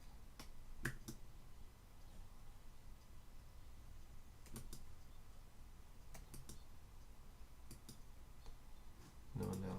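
A regular computer mouse right-clicking while working in LTspice circuit-simulation software: a few faint, scattered clicks, some in close pairs, over a steady background hiss.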